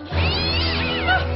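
An angry cat meows in a film comedy scene, a loud, drawn-out, wavering yowl running steadily for over a second with no talk over it.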